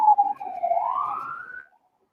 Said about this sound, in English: I heard a police car.